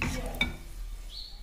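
Cloves and cardamom pods sizzling in a pan, a brief close crackle with a spoon scraping and stirring, a light metallic clink partway through.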